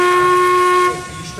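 A steam locomotive's whistle blows one loud, steady, shrill note for nearly a second, then cuts off, leaving a quieter trailing hiss.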